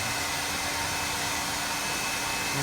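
A hot air blower warms a decal on a Honda PCX scooter, producing a continuous, close, loud airy whoosh with no pauses and no voices.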